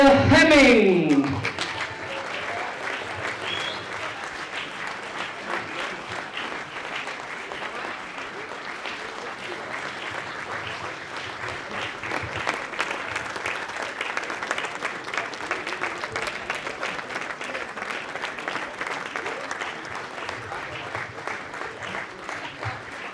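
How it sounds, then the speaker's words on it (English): Sustained applause from guests at an end-of-season awards dinner, a broad wash of clapping that holds steady for over twenty seconds after a brief voice at the start. "Wow, one more round of applause, ladies and gentlemen."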